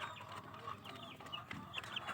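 Newly hatched chicks from incubated eggs give faint, high-pitched peeps and chirps in scattered bursts over a low background murmur.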